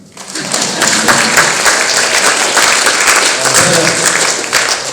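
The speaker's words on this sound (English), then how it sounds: "Okay, you can applaud that." An audience at a talk in Burgess Hill breaks into loud, sustained applause, a dense steady roar of many hands clapping that holds for the whole stretch without pause.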